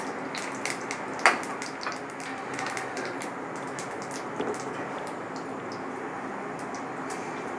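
Cumin seeds and a bay leaf tempering in hot oil in a village kitchen give a steady, faint crackling sizzle with a few sharper pops and no voices.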